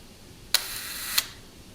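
A Voigtlander Superb twin-lens camera fires its shutter at 1/25 second, giving two crisp mechanical clicks a fraction of a second apart, close and clear in a quiet room.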